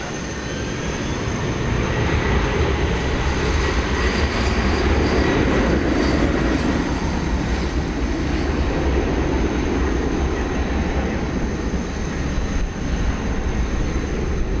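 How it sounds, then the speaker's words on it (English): Airbus A330-300 airliner, flight 364 to Madrid, at Dallas Fort Worth airport at night: a loud, steady, broad jet-engine roar that swells slightly and holds without break, with no talk. "It's going to Madrid. Flight 364, Airbus"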